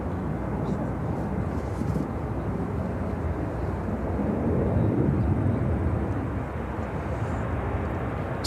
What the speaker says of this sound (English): taking off to Bozeman on the 737-800